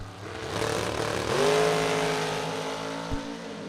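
Drag racing cars roar off the line at a bracket nationals event, a loud sustained engine rumble that climbs in pitch as they accelerate down the strip, then fades slightly toward the end.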